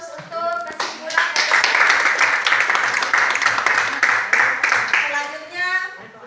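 A classroom group claps for a group's concluding presentation during a teacher-training lesson: brisk, crowded hand-clapping swells up and fades out, with voices talking briefly at the start and the end.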